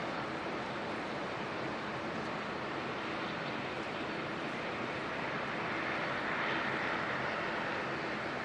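Aircraft taking off at Auckland Airport in foggy conditions, a broad, steady roar of engines heard from a distance that swells slightly toward the end, with no talk.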